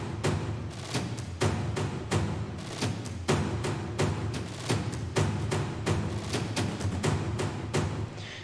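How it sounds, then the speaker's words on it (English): Orchestral drums in a progressive house track hit in a steady rhythm of loud, punchy thuds with a light reverb tail, layered over a dense, sustained mix of synth and other instruments. "now we introduce some orchestral drums, which sound like this"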